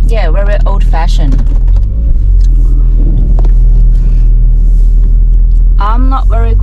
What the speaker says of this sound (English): I'm driving a very old car.